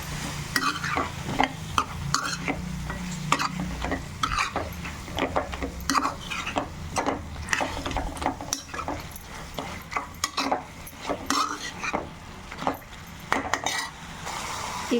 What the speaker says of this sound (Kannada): ಈಗ ನಾನೇನು ಮಟನ್ ಬೇಯಿಸಿಟ್ಕೊಂಡಿದ್ದೆ ಅದನ್ನ ಇವಾಗ ಇದಕ್ಕೆ ಸೇರಿಸ್ಕೊಳ್ತಾ ಇದ್ದೀನಿ